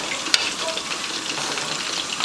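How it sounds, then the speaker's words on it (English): Pork chop gravy thickened with flour is stirred in a hot pan, giving a close, steady sizzle with soft scraping strokes and one brief clink near the start. "So I'm going to keep stirring it and making sure that it gets thicker."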